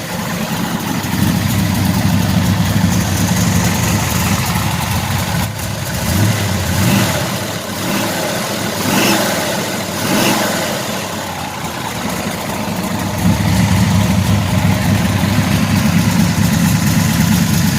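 A car engine fitted with a Holley 850 carburetor idles loudly and steadily, with a rough rumbling tone that dips and swells briefly mid-way before settling back to a steady idle.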